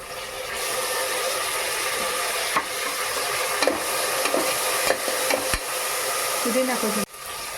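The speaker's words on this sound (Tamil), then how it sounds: "புதினா நல்லா ஃப்ரை ஆகிடுச்சு." Mint leaves fry with ginger garlic paste in a pan, a steady loud sizzle punctuated by scraping stirs and a few clinks, ending with a sharp knock.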